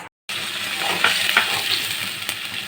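Onion paste hits hot oil with bay leaf, cardamom and cinnamon for a fish curry, and a loud, close sizzle bursts in after a moment of silence, with a few scraping stirs over a steady hiss.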